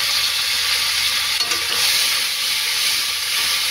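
Onions frying in hot oil for a Bengali-style mutton liver curry, a steady, loud broadband sizzle and hiss that runs unbroken throughout with a faint stir partway through and no voices.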